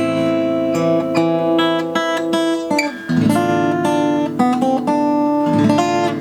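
Guitar plays the opening fragment of a bolero as a steady, ringing melody over sustained bass notes, with frequent plucked attacks and a short pause midway, close and fairly loud with no voices.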